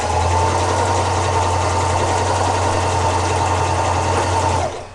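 A sewing machine running a straight stitch on fabric for realistic dog ears, a loud, steady motorized hum with a rapid mechanical chatter held for several seconds before cutting off.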